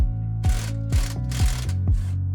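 Ratchet wrench cranking nuts off a spare tire mount on an old work van, a close, loud run of rapid clicking strokes in regular bursts.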